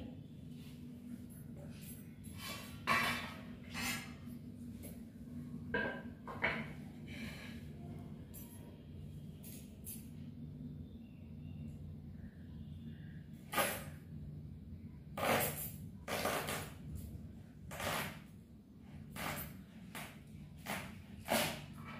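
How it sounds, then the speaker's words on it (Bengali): A knife slicing through a fresh watermelon, with a string of crisp broadband cuts and crunches standing out over a steady low background hum, some strokes sharper and louder than others, close up. "এইও কাটছি, আর তরমুজটা সেরকম এতটা লাল নয়।"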